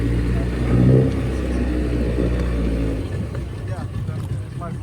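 A boat motor rumbles low and steady on a dive trip off Koh Tao, Thailand, revving briefly near the start, with voices talking over it.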